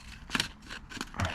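Rusty car sill metal on a Lexus IS 200 being cut with snips, giving a few short, sharp crunching cuts close by.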